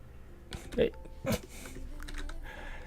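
Quick, light keystrokes tap on a computer keyboard while building in the game Jamango, a few clustered clicks under faint background talk.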